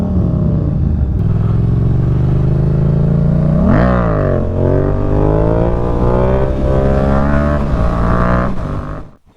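A Yamaha motorcycle, an FZ-07 or MT-09, pulls hard while ridden, its engine note climbing through the revs, dipping at a gear change into second, then rising again loud and close before fading at the end.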